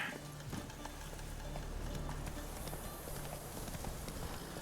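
Hooves of Roach, the horse in The Witcher 3 video game, gallop in a faint, steady rhythm under a low background of ambient game sound.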